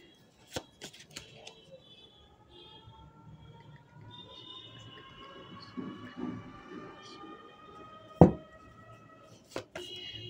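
Tarot cards are shuffled and handled during a reading, with soft, intermittent riffling and a few sharp slaps and taps scattered over several seconds against a quiet background.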